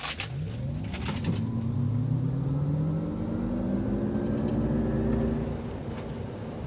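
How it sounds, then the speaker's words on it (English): A 2025 GMC Hummer EV pickup launches from a stop on a road for a 0 to 60 run, its electric motor whine climbing steadily in pitch over several seconds, loud and close throughout. "We're gonna stop in the middle of the road so we can get that 0 to 60."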